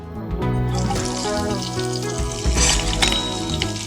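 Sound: chillies crackling in hot oil

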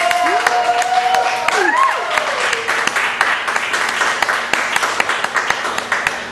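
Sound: audience applause at live poetry reading

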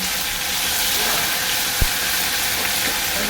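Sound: cumin frying in a pan

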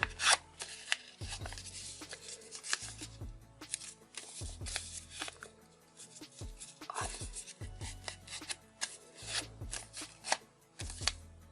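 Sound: folding paper origami

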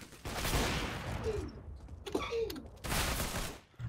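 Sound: gunfire in a video game

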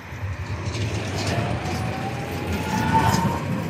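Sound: tram passing by on the street

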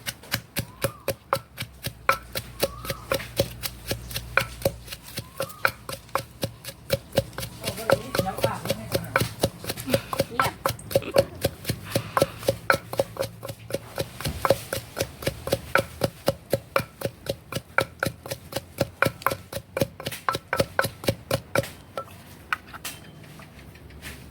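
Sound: pounding chilies in a mortar for tomato jaew

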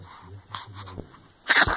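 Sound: sneeze

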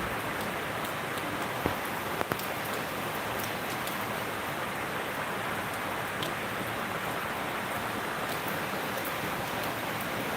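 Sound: heavy rain

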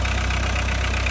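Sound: VW Westfalia Syncro TDI diesel engine running

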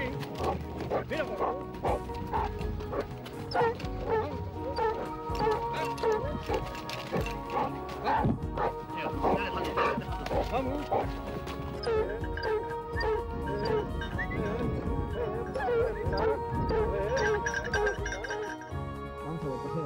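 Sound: hunting dog barking at a wild boar

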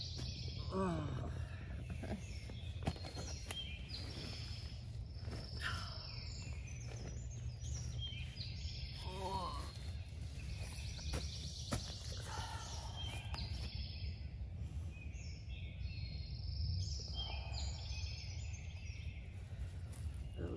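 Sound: birds singing at dawn at a wild campsite

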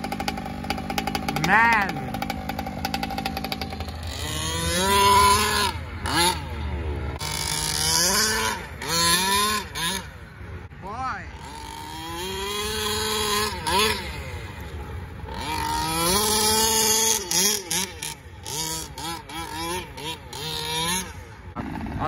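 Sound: HPI Baja 5T RC car two-stroke engine revving

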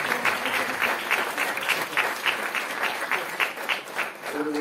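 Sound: audience applause for the volunteers

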